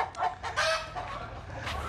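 Chickens being treated for mange in a coop, giving several short clucking calls over constant low rumbling background noise, moderately loud and close.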